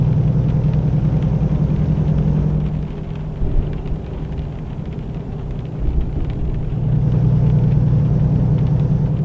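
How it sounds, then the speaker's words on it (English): Thunder rumbles low and heavy in American Truck Simulator as a storm rolls in, a long deep roll that dips mid-way and swells again, with a truck engine droning underneath and no talk. "Love the fact that you can hear the thunder."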